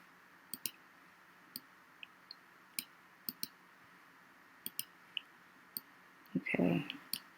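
Computer mouse clicking: about a dozen sharp, quiet single and double clicks spaced irregularly against a faint hum, with a short burst of speech near the end.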